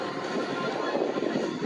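A Stearman biplane at an airshow drones overhead with its engine idling, a steady, moderately loud rumble with faint wind noise.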